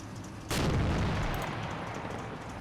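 A Panther tank gun fires once in the video game Combat Mission Final Blitzkrieg, a single sharp, heavy boom that rolls into a low rumbling decay over two seconds against steady background ambience.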